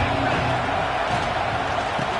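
Stadium crowd at a college football game, a dense, steady roar filling the whole clip, loud and continuous with no distinct peaks.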